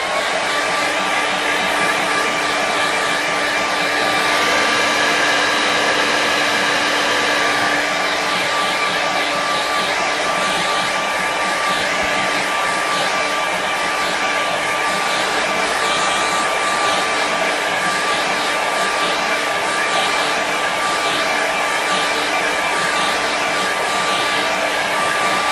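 Hair dryer blowing steadily on a wet watercolour painting, a loud, close, unbroken whine with a constant pitch and no talking.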